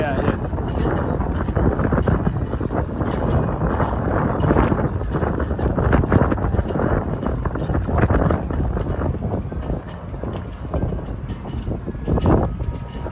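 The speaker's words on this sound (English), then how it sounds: "Wow, it's a little windy out here." Strong, constant wind buffets the microphone with a deep rumble throughout, and a person talks over it, outdoors on Broadway in downtown Nashville, Tennessee, on a Friday night.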